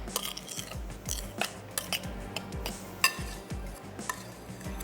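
Butter and powdered sugar being stirred together in a bowl, with a steady run of clinking and scraping as a spoon or whisk knocks against the dish, close and fairly quiet, with no talking.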